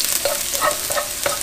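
Garlic fries in oil in a pan with a steady sizzle, punctuated by a few soft rhythmic stirring scrapes, close and fairly loud with no talking.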